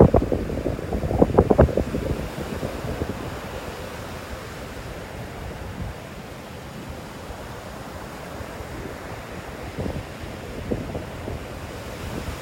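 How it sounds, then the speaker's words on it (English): Strong wind buffets the microphone in gusts, loudest at the start, over a steady roar of surf breaking nearby on a beach during a red tide. "Really windy out here."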